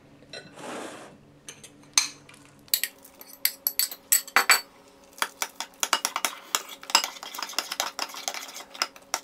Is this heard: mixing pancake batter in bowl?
yes